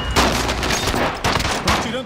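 Rapid video game gunfire rattles in dense, loud bursts aimed at the player, overlapping shots and cracks filling the short stretch without pause.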